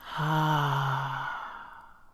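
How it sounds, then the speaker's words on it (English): A single long, audible exhale through the mouth, close and clear, fading out gently after a brief intake of breath, with no speech over it. "breathe in through your nose, and breathe out"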